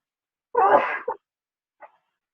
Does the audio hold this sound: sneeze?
yes